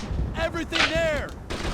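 Gunfire in the video game Brothers in Arms, a World War II shooter: a few sharp crackling shots and booms break through dense in-game noise and talk.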